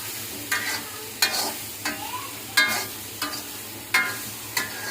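Mushrooms half-fry in a pan for masala curry, a soft sizzle broken by a utensil scraping the pan about six times at an unhurried pace, with no talking.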